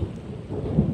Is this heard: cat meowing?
no